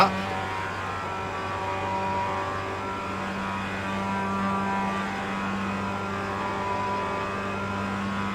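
Mazda MX-5 race car engine in the iRacing sim at Charlotte Motor Speedway Roval, a steady mid-pitched drone holding near constant, close and continuous with no talk over it.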